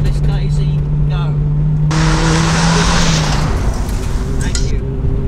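A 2WD Mitsubishi Lancer stage rally car at the FIRM roars loudly as it accelerates, with tire squeal and a raw engine note filling the whole stretch while a voice talks over it.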